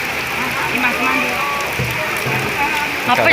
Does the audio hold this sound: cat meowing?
no